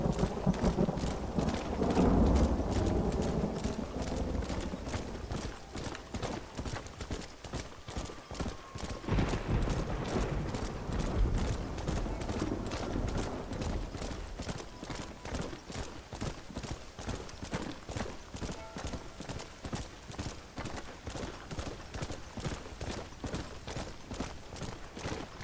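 Horses gallop in Red Dead Redemption on PlayStation 5, a fast, regular clip-clop of hooves that runs steadily throughout, loud and close, with some rumbling at the start.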